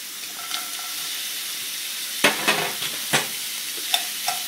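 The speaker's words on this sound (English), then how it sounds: "my onions are starting to become translucent, so I'm going to throw in the peas now" Frozen peas drop into translucent frying onions for a salmon scramble, giving several sharp clattering hits and stirring scrapes over a constant sizzle, close by with no talking.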